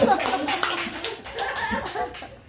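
Clapping from a church congregation at a revival prayer service, a burst of hand claps mixed with voices and light laughter across the whole moment.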